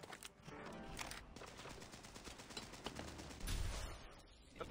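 Rapid light machine gun fire in a video game, a steady run of dense shots with a heavier burst near the end, loud and close.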